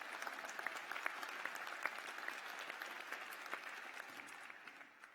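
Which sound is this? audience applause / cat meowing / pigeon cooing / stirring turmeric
audience applause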